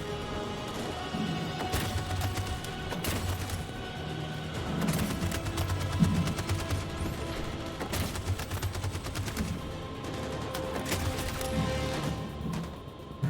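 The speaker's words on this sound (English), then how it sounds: "They have to do the cover fire." Gunfire from cover in the game Detroit: Become Human, a dense run of repeated shots and impacts over a steady tense game soundtrack, loud and continuous with no talk.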